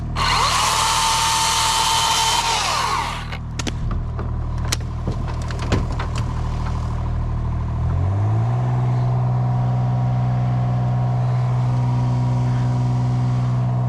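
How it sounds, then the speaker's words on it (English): A cordless Milwaukee Fuel top-handle chainsaw works on a very dead white oak, its motor whining loudly and steadily, with sharp cracks and snaps partway through and a deeper sustained hum at the end; no voices are heard. "Got the Milwaukee Fuel top-handled chainsaw here."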